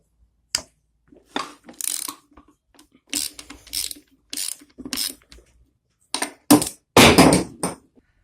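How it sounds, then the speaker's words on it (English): A ratchet wrench works on a dirty lawnmower transaxle to remove the brake caliper, making bursts of sharp, close clicking that come in short separate runs with brief silent pauses between them. "We're almost done taking the brake caliper off"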